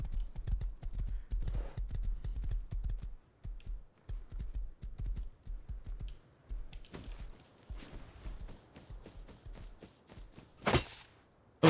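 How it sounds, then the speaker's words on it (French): Small horse in the survival video game Rust, clip-clopping with quick, dense hoofbeats up close, thinning and breaking up partway through before resuming, alone without talk. "J'arrive avec le petit cheval."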